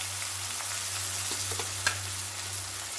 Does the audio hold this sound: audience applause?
no